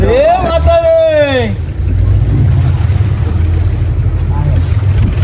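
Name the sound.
sea waves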